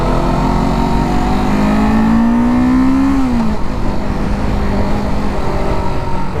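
Small Yamaha or Kawasaki demo motorcycle engine while riding toward a freeway, a steady mid-pitched hum with a rising tone that climbs then drops, under constant wind rush.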